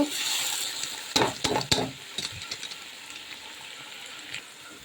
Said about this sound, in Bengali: চালটা মশলার সাথে সুন্দর করে ভেজে নিতে হবে